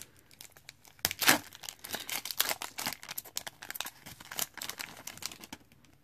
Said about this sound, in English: So let's crack a couple packs.